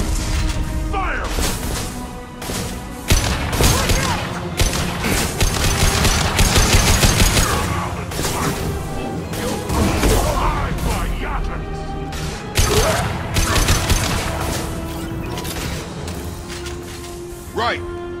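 Gunfire in Mass Effect 2 during a combat push, dense bursts and impacts running throughout under loud shouted voices, with sharper crashes near the start and in the middle.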